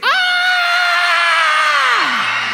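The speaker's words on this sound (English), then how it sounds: "if you're a kid in the house, give me a crazy scream" Kids in a church congregation let out one loud, sustained scream that holds for over two seconds before sliding down and fading.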